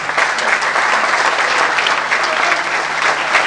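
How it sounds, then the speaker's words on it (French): A crowd at a political youth league rally claps loudly and steadily, close dense applause with a few sharper individual claps standing out. "Et je demande d'applaudir fort."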